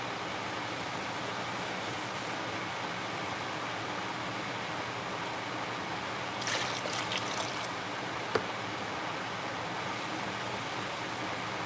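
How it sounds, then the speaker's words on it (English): A continuous broadband rush of water poured into a pot of gumbo with sausage, steady and fairly loud for several seconds, with brief splashing and a single sharp knock near the end. "Put some more water."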